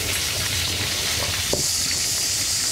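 Bacon sizzles steadily as it fries in a pan, a close, continuous crackling hiss with a faint scrape partway through and no talk.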